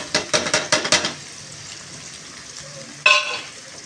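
A quick run of metallic taps is followed by a lull, then a sudden burst of sizzling as beaten egg hits onions frying in hot oil.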